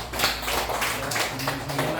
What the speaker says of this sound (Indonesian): boleh tepuk tangan untuk Ibu Firdan